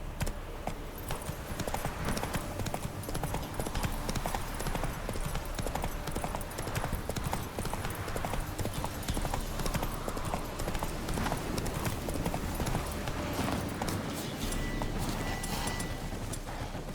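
Horse hooves clip-clop steadily in The Witcher video game, a continuous trotting rhythm up close over a dense layer of game ambience and music, with a brief voice near the start.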